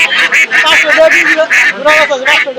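Ducks quacking repeatedly at a traditional country duck and chicken market, loud and close in rapid nasal bursts, with people talking over them.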